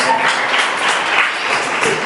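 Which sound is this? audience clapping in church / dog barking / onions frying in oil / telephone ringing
audience clapping in church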